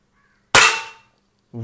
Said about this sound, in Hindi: चलिए इसको फायर करते हैं